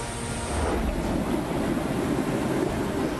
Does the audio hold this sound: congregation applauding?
no